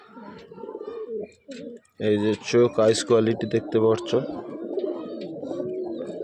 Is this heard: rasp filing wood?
no